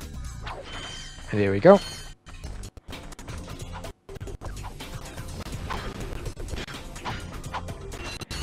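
Devastator weapon fire blasting mines in the Ratchet & Clank video game: a loud crashing burst with mechanical clanks early on, then continuous clattering game effects and music, with someone talking over it.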